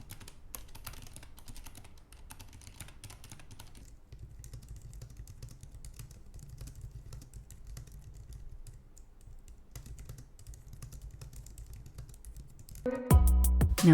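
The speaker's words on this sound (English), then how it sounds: "So let's start off with some typing sound tests." Typing on Keychron K3 and Logitech MX Keys Mini keyboards, a steady run of soft, close key taps with short pauses, ending in a louder burst of clatter.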